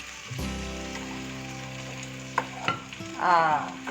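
Cashew and poppy seed paste is stirred into tomatoes frying in a pan, giving a close, steady sizzle with scraping stirs and a brief louder crackle near the end.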